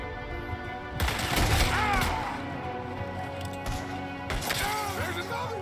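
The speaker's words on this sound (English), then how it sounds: "There's another one shooting from the window." Gunfire in Red Dead Redemption 2 breaks out in bursts of shots and impacts during a shootout, with in-game voices talking over the noise.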